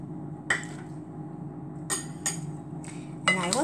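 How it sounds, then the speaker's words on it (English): Fattoush salad being tossed with dressing in a bowl, giving a few scattered clinks and clatters of utensils against the dish over a soft background, with sharper bursts near the start and end. "Now I will start adding the dressing and mix"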